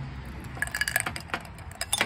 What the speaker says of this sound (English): from there, we're gonna put some ice